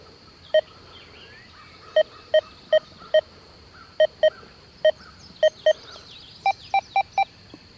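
A Deus 2 metal detector with HF2 coil at 29 kHz beeps in short sharp tones, about a dozen separate bleeps in an irregular rhythm over a quiet background, some closely grouped.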